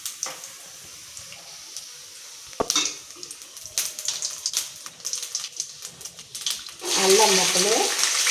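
A large spoonful of cumin seeds dropped into hot oil for jeera rice. Faint crackles and utensil clinks come first with a voice talking, then a loud, steady sizzle rises over the final seconds.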